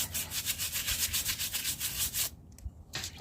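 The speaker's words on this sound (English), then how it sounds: "give it a good scrub with some iodine" A horse's hoof is scrubbed hard with a brush and iodine on a dry concrete pad, giving rapid rhythmic close bristle strokes that pause briefly near the end and then resume.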